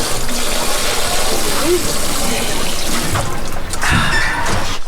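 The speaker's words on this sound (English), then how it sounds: "Water from the spring." Steady rushing spring water flowing close by in The Narrows, Zion National Park, Utah, a constant loud gush with a faint voice briefly audible over it near the end.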